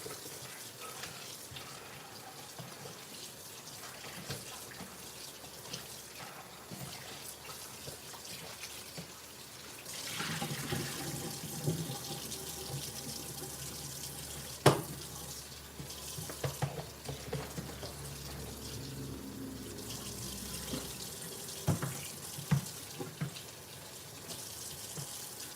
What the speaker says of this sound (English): Now you're going to throw off the water and wash it again.